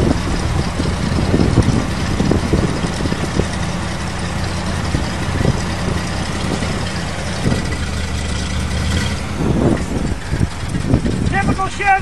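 A 427 Chevy dump truck engine idles roughly in the cold, a low, steady rumble close by, while people talk over it throughout.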